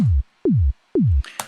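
Three punchy synthesized kick drums with a sharp downward pitch sweep, evenly spaced, followed by a brief hissy noise burst.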